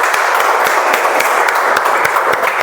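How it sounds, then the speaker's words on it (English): A meeting audience claps together in steady, continuous applause, close and fairly loud, with individual hand claps standing out through the dense wash for the whole stretch. "Let's give a big round of applause again."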